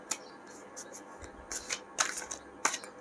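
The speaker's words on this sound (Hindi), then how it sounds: "कार्ड्स को शफल करके।" Tarot cards being shuffled by hand give a series of quick, close riffling and flicking bursts in irregular rhythm, with brief pauses between them.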